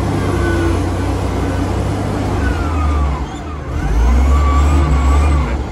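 A Komatsu WA 180 wheel loader in first gear forward raises and curls its bucket, its diesel engine droning loudly and steadily, dipping briefly then revving harder as the hydraulics work.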